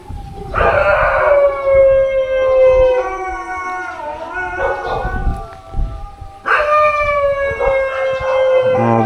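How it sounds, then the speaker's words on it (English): Guard dogs in a Hua Hin neighbourhood howl in long, wavering tones with scattered barks, loud and close, the chorus sustained, dipping mid-clip and then swelling again. "God, quite a few dogs up this end."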